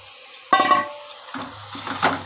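Potato and pointed gourd pieces tipped into a pan of spices and green chilli paste for aloo potol paneer dalna: a sudden clattering drop, then softer scraping and a light sizzle, close up with no talking.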